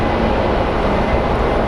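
A Southwest airliner taxiing at Phoenix Sky Harbor airport, a steady, loud engine rumble and roar that holds even throughout, with no voices.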